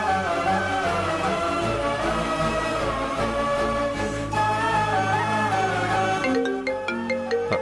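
A phone rings with an incoming call, playing a continuous melodic ringtone that sounds clearly on its own, with a brighter, chiming passage near the end.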